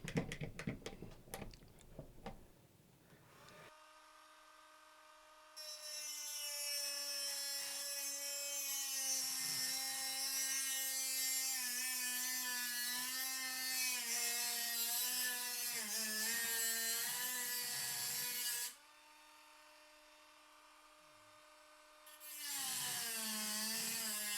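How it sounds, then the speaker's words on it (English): A Dremel rotary tool with a cut-off wheel grinds a steel sheepsfoot blade for a Bear and Son Trapper knife, giving a high, steady whine in two long passes separated by a brief pause, loud and close with no talking. "Then I used a Dremel tool with a cut-off wheel to shape the blade."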